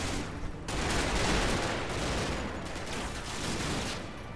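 Artillery shells exploding in the WWII strategy game Combat Mission Final Blitzkrieg, a dense, rumbling barrage of overlapping blasts and crackling bursts that swells and eases over several seconds, heard alone without speech.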